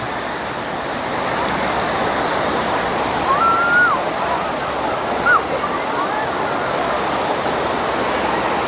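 Constant roar of sea surf on a beach at Sattahip, Thailand, washes over everything, with faint distant voices of people playing in the water and a couple of brief high calls surfacing over the waves.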